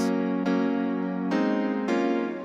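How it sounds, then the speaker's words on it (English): Four guitar-like chords from a Gibson DI sample strike, each bright attack ringing out and sustaining before the next, clean and close. "which uses a Gibson DI sample to create the chords."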